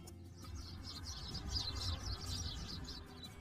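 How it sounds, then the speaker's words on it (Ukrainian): House sparrows chirp in a busy, overlapping chatter over a low background rumble, a steady stream of short tweets. "А як розмовляє горобчик? Дітки, він цвірінькає."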